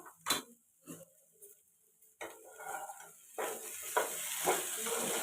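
Capsicum sizzles as it fries in a pan with besan, parwal and green banana, and a spatula scrapes and stirs it in several clattering bursts. The sizzle starts faint and grows louder and steadier toward the end.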